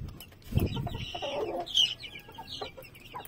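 Baby chicks peeping after being moved into a new enclosure, a busy chorus of high chirps with a louder burst near the start and steady peeps continuing throughout, no talking.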